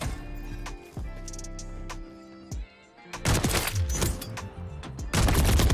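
Sniper rifle gunfire in a fast-paced shooter video game, several sharp single shots and cracks scattered over a busy, loud game soundscape with denser rapid bursts near the end.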